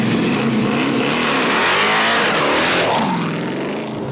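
A 500-horsepower coachbuilt car, one of only three made, its engine revving loud and close in a sustained rising and falling roar, with no voices.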